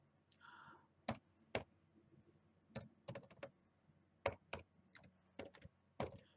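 A pip install command being typed on a computer keyboard: sparse, irregular key clicks, some single and some in quick clusters, close and crisp against a quiet room, with no talk.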